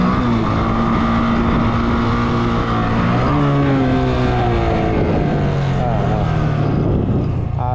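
Motorcycle engine held at a steady loud drone while the rider keeps a wheelie up during stunt riding, with pitch shifts as the throttle changes and a brief rise near the end; a voice talks over it.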